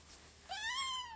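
Cat giving a single clear meow, rising then falling, close and fairly quiet against a low background hum, with no voices.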